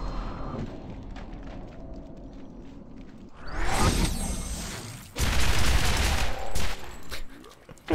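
Dual-wielded guns blazing in Borderlands, bursts of rapid fire and booming shots arriving in two loud, dense stretches after a quieter opening, close and harsh with whooshing effects mixed in.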